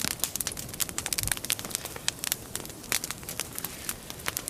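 A taiga log bonfire of the yurlok type, built for a winter overnight in the forest, crackles and pops without pause, with dense sharp snaps over a low steady rush of burning, close by and with no voices.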